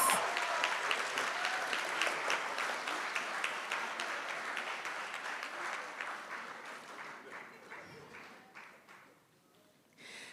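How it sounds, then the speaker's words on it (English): Audience applause for a student competitor at a school award ceremony, a dense wash of many hands clapping that starts strong and slowly thins and fades toward the end, with faint voices beneath. "Give him another round of applause."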